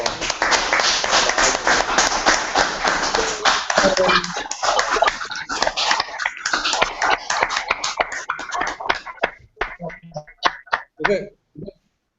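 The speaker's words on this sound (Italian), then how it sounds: "se vuoi farti un applauso, fai un applauso" Applause from an Italian political gathering, a dense run of many hands clapping loudly that thins into scattered, separate claps before stopping, with voices mixed in throughout.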